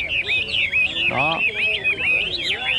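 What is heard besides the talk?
caged hwamei birds singing at a bird market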